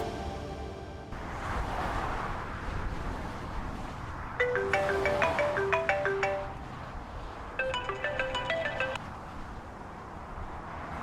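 A phone rings with an incoming call, two bursts of a bright, melodic electronic ringtone playing close over a soft room hum and low background rumble, with no talking.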